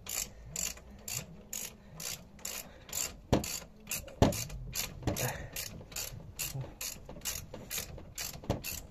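A ratchet tightening a bolt on a Peugeot 306 1.9 TD, with rapid rhythmic pawl clicks in bursts of repeated strokes, close and distinct, and a few heavier clanks between them.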